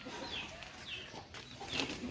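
A chicken on a rooftop gives a few short, faint clucks and squawks in quick succession, with quiet outdoor ambience and no talk.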